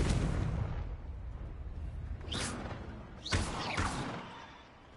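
Booming fire-blast spell explosions from the Confringo curse in Hogwarts Legacy, a rumbling blast at the start followed by two sharper cracking bursts with whooshing tails, loud and close with no talking.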